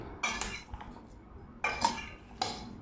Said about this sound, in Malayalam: അപ്പോൾ കടലയിൽ ഈ അരപ്പെല്ലാം നല്ലതുപോലെ പിടിക്കണം അതിനായിട്ട് നല്ലതുപോലെ ഒന്ന് മിക്സ് ചെയ്ത് വെക്കുക